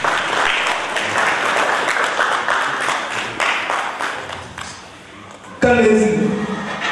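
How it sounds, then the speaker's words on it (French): Audience at a football awards trophy ceremony applauds steadily for several seconds, a dense, loud clapping that thins out before a speaker's amplified voice cuts in over a loudspeaker. "Je vous demande d'applaudir tout bien la marine de tournoi."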